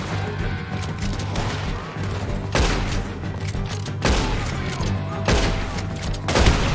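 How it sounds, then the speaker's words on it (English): Loud gunshots in Red Dead Redemption 2, a handful of sharp, booming reports spaced about a second apart over a continuous rumbling game backdrop. "I took a couple more shots than I wanted."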